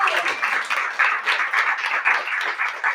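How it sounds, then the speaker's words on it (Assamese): A church congregation claps together in a quick, steady rhythm, many hands sounding as sustained applause that carries on throughout. "আমেন ক, জুকে তালি বজাই চল ধন্যবাদ।"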